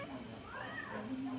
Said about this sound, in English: You with the meowing.